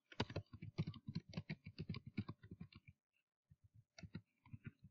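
Quick bursts of key clicks on a computer keyboard as a name is typed, a close rapid run of keystrokes, a short pause, then a few more taps.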